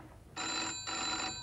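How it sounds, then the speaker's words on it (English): A telephone rings in two bursts of electronic, harmonic ringing, clear and fairly close, with a short gap between them and no voices. "A phone."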